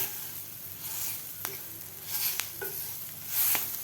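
Green chillies for masala mirchi fry in a pan with a soft, steady sizzle, punctuated by several light clinks and scrapes as they are stirred, fairly faint and close.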